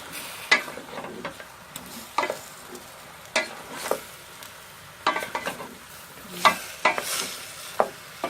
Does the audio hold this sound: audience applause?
no